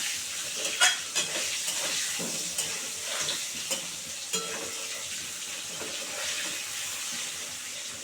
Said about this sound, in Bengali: ভালো করে ভেজে নেবো আলুটাকে